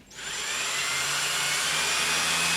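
A power drill whines up to speed and holds a steady, high grinding tone as it bores through wood, close and continuous.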